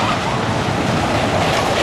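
A wooden roller coaster train rumbles and clatters past on its track at Camden Park, West Virginia, with a rattling, rolling roar, loud and close for the whole stretch.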